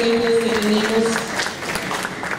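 Audience clapping at a community food-and-knowledge event in Nariño, a broad burst of applause with crowd murmur and a sustained tone beneath, fairly close and steady before thinning out toward the end.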